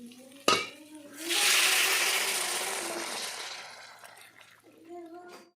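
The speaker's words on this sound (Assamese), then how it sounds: "এতিয়া গৰম পানীখিনি দি দিম।" Hot water poured into a cooking pot of fried swamp eel, a broad rushing splash swelling after a sharp clank and tapering off over a few seconds, with a voice briefly audible before and after.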